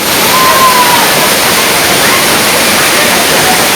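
A constant, loud torrent from the 50-foot Rampa Waterfall in Andhra Pradesh, heard up close as an even rushing roar, with faint indistinct voices mixed into the spray.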